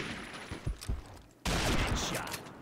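Video game gunfire: a few scattered shots, then a dense, loud burst of rapid fire that rings on for over a second, close and harsh.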